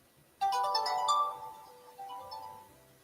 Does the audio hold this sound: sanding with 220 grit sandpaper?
no